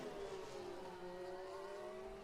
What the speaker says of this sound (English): cars are out on circuit, by the way